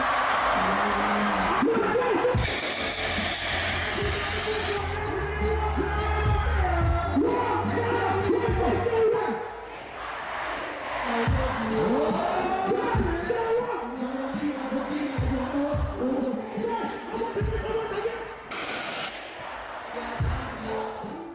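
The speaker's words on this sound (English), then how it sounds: "That crowd was massive." A massive festival crowd at Wireless Festival in the UK roaring and cheering for a performer, with loud whoops and shouts, the noise swelling and ebbing over a sustained wash of voices and music.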